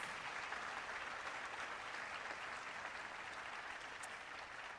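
An audience at a South Carolina calendar unveiling ceremony gives sustained, even applause for student contest winners, many hands clapping at a steady moderate level with no voices on top.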